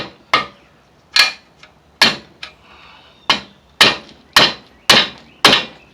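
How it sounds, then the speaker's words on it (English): A fairly heavy hammer strikes a big Craftsman flathead screwdriver wedged under the lip of a VW Mk3 suspension bushing, giving eight sharp metallic taps at an uneven, roughly steady pace, close and loud with no talking. "I'm just using a basic big old flathead from Craftsman. Nice heavy-ish hammer."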